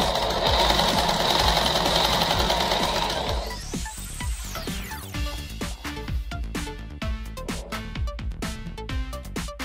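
A sewing machine runs a double line of stitching along a petticoat seam, starting with a steady continuous whir, then a rising whine, then giving way to a rapid, rhythmic clatter of stitches close up.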